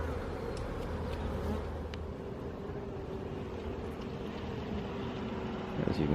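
A steady, close drone of honey bees swarming around a hive frame, continuous and dense throughout, with slight swells in intensity and no talking.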